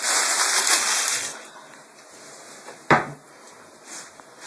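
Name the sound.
washing cookie cutters in water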